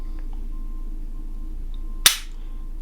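A single sharp, crisp click of a Glock 45 Gen 5 pistol trigger breaking during dry fire, close and alone after a moment of quiet room tone.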